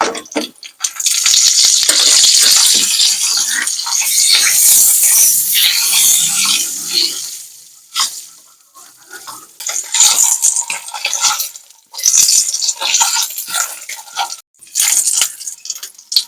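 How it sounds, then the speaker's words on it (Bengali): Cut boiled eggs dropped into hot oil with turmeric, setting off a loud, close, hissing sizzle that runs steadily, then breaks into gaps and bursts of spatter and clinking pan noise. "ডিম আমার কাটা রেডি, তেলে দিয়ে দিচ্ছি।"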